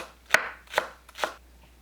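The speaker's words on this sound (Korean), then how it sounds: "파를 잘게 자릅니다." Three crisp knife chops through green onion on a cutting board, spaced about half a second apart, close and clear with no talk.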